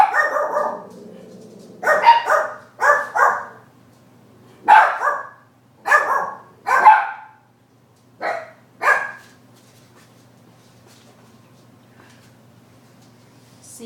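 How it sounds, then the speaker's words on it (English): A dog barks in a series of loud, close bursts, about eight single and double barks spaced over roughly twelve seconds, with quiet gaps between them and no talking. "Oh, here goes the dog."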